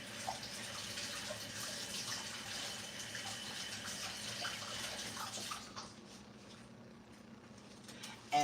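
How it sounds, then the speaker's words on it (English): Kitchen tap water runs steadily while food is rinsed under it, a continuous close splashing hiss that drops in level toward the end, with a brief louder splash at the close. "But I do rinse it off."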